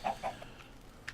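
Chickens clucking in Minecraft: two quick, close clucks at the start, then fainter chirpy blips trailing off over a quiet background, with one short sharp sound at the end.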